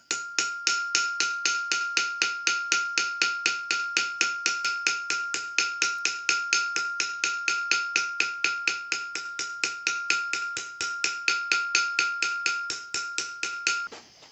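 A small peen hammer textures a piece of copper for a forged cuff bracelet, giving a steady, rapid run of sharp metallic strikes with ringing overtones, close and loud, repeating evenly throughout with no talk.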